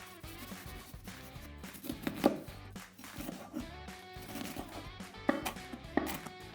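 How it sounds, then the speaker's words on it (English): Red onion being sliced thinly with a knife on a board, a few faint rhythmic cuts with a couple of sharper knocks against a quiet room background. "We're going to slice some red onion, and we're going to slice it very thinly."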